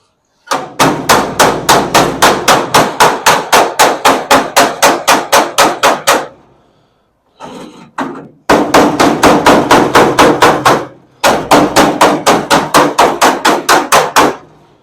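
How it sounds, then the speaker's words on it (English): Loud, rapid hammer blows tapping a trunk panel piece on a Dodge Challenger back into place, struck in three quick bursts of about twenty evenly spaced hits each, with brief pauses and a few scuffs between. "I need to tap this back a little bit. So let me get a tappy device to tap that back in place."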